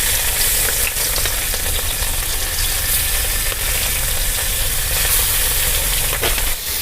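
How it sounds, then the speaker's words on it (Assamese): Rohu fish pieces fry in hot oil in a wok, a loud, steady sizzle and crackle that holds without a break from start to finish, with no voices. "তেল মোৰ গৰম হৈ গৈছে মই এতিয়া ইয়াত মাছখিনি ভাজি ল'ম"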